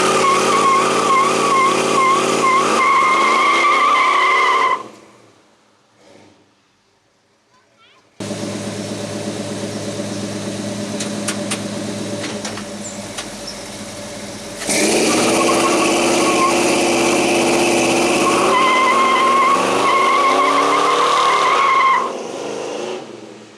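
Chevrolet C10 work truck with new headers, its engine revving loudly in repeated rising and falling pulls, with a brief quiet gap and then a long steady run before more revving.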